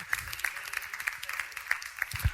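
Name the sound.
audience applause for the pitch speakers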